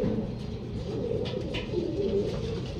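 Racing pigeons coo steadily and close by in a loft, their soft low calls overlapping continuously with a faint chirp or flutter now and then.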